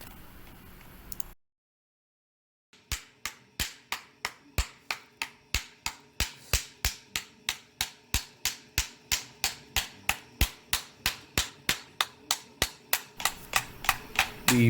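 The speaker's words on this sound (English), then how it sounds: "so you hammer it in, and that's what holds it together" A steady run of sharp, regular hammer strikes drives a metal mending plate into wood at a workshop, about thirty crisp taps after a short pause, close and fairly loud, with no talk over them.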